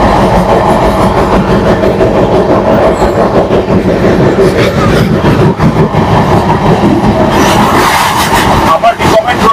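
Inside the 12278 Puri–Howrah Shatabdi Express, a steady loud rumble and rattle of the train at speed carries throughout, with faint rhythmic clatter and a person talking over it.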